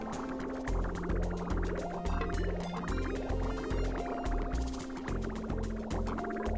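Polluted water flows and gurgles through pipes in the Oxygen Not Included colony game, a continuous bubbling, liquid wash over steady background music.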